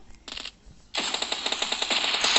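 Rapid bursts of gunfire-like cracks from an explosion in PUBG, a short volley, a pause, then a long sustained rattling barrage, loud and close.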